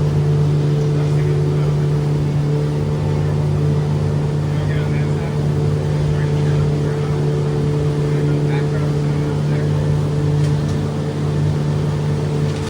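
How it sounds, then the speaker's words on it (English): A boat carrying passengers across the water at Walt Disney World gives off a steady, loud engine hum and drone throughout, with faint background chatter beneath it. "We're making our way over to the boat now to head back to the hotel."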